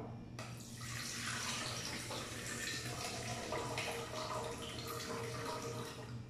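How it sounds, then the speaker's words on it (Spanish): Rinse water being poured off washed rice in a kitchen, a steady splashing pour of water running continuously for several seconds, fairly close and moderately loud, with no voices over it. "Vamos a retirar esta agua."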